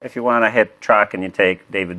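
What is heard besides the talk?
No everyday noise stands out behind the speech.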